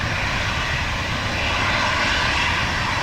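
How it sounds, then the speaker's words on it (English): An ATR turboprop airliner departs in strong, gusty wind, its engines producing a loud, continuous roaring drone with no voices. "it was definitely the first time one of the ATRs has gone sideways on departure"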